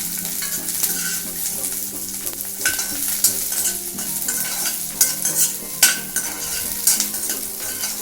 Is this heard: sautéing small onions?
yes